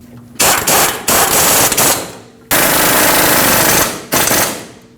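Impact wrench tightening the two brake caliper mounting bolts on a 2005-2021 Nissan Frontier 2WD: loud, close rattling hammering in several bursts, two long runs and shorter blips, with no talk.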